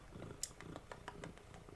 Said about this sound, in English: my cat's trying to kiss me